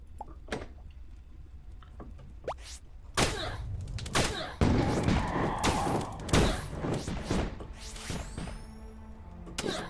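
Game gunfire in Starbound, a series of sharp broadband shots and thuds scattered across the stretch, denser and louder in the second half over a steady low background.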